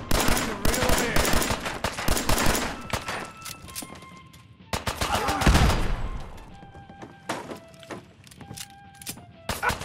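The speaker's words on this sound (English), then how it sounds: "Somebody's out there shooting the place." Gunfire in Fallout 4, with bursts of rapid shots and scattered single cracks, loud early and then thinner and sporadic, including a heavier thud near the middle, with talk between characters underneath.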